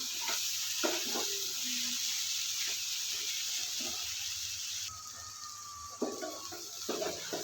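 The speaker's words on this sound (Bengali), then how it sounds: "এটা ভাজাতে নেবো ভালো করে" Shredded cabbage and egg frying in a pan give off a steady, close hiss of sizzling oil that runs throughout with a few light stirring clicks.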